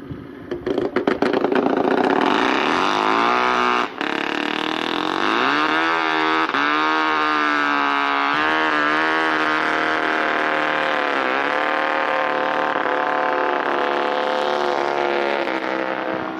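Kuhnke Sport 1 race motorcycle engine fires up and runs, climbing into a loud, raw, sustained roar with rising and wavering pitch as it is revved, close by and uninterrupted.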